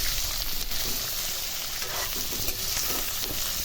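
Pork, boiled briefly beforehand, sizzles and fries steadily in a pan while being stirred, with a dense continuous crackle and occasional scraping from the stirring throughout, loud and close with no talking.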